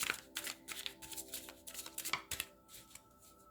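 Akashic Oracle cards shuffled by hand, making soft, quick riffling flutters in short bursts, quiet and close, with a faint background hum.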